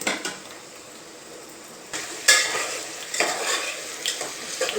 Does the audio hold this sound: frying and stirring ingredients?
yes